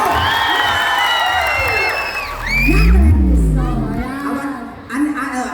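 A festival crowd at the Villasis flower festival in Barraca cheers, whoops and shouts for Uncle Ernesto, loud and close, with a deep rumble and some voices mixed in.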